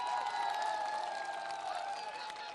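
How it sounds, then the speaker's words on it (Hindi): Steady crowd applause fills a stage event in Rae Bareli as Samajwadi Party candidate RP Yadav is welcomed, a dense continuous patter with a faint tonal ring over it. "तालियों के साथ स्वागत कीजिए आरपी यादव का"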